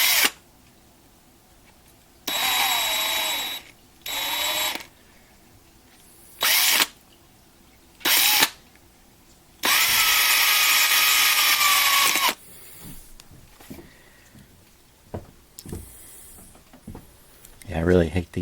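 A DeWalt 36-volt drill whirs in several short and longer bursts, tearing down NASCAR 1/64 custom diecast cars, with a rising whine on each run and small clicks and handling sounds between the bursts.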